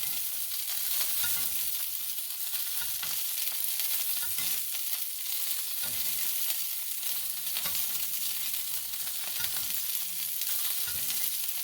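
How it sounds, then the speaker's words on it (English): Salmon fillet searing in oil in a pan, a steady, close, loud sizzle and crackle of frying fish with soft stirring and spattering pops throughout, no voices. "So I'm cooking this fish just nice and evenly, gentle"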